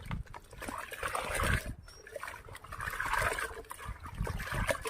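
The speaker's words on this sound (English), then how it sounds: "strain the solution using a fine cloth or sieve to separate the coffee grounds and onion skins from the liquid" Coffee-and-onion-skin liquid fertilizer strained through a fine cloth, with uneven wet trickling, sloshing and dribbling that swells and fades over several seconds, close and moderately quiet with no speech.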